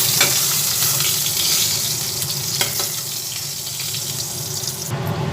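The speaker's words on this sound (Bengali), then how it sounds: "ডিমগুলো ভালো করে এধার ওধারগুলো করে ভেজে নিচ্ছি" Eggs fry in hot oil in a pan for a potato and egg curry, a continuous close sizzle with occasional scraping and turning sounds.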